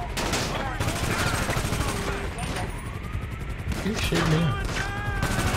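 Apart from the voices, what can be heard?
mini AK gunfire in video game GTA V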